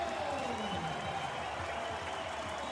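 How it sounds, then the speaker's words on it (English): Football crowd at a Central Coast Mariners vs Adelaide United semi-final second leg giving a standing ovation, a steady dense roar of applause and cheering that holds evenly from start to finish. "as he gets a standing ovation from the crowd"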